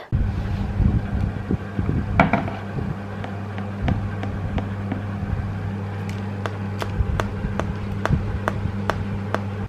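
Light, regular tapping clicks on a hollow, crisp baked pavlova meringue shell, about a dozen evenly spaced taps over a steady low background hum.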